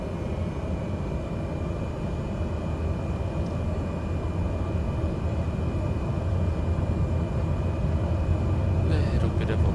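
Airliner engines in a flight simulator game spool up as the aircraft sits lined up on the runway, a steady loud roar that builds gradually, with a voice talking over it.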